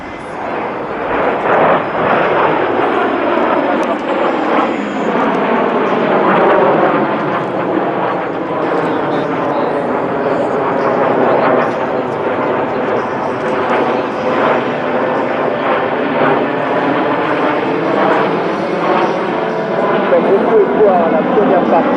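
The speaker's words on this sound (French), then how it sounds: "les avions sont en train de voler à 3 mètres de l'un de l'autre" Breitling Jet Team jets flying in close formation at the Belgian Air Force Days 2018 airshow, a loud, continuous jet roar with a slowly sweeping whoosh as the aircraft pass, with people talking beneath it.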